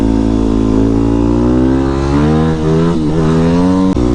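A 2008 Yamaha WR250R dual-sport motorcycle engine revs hard and close, its pitch climbing steadily, dipping briefly, then rising again before cutting off sharply near the end, loud and alone.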